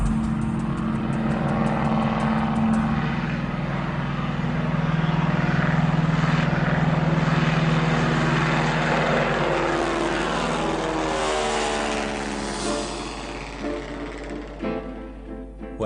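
A vintage 1928 propeller airplane drones steadily in flight, its engine and airscrew holding a continuous buzzing roar that swells slightly midway and then fades toward the end.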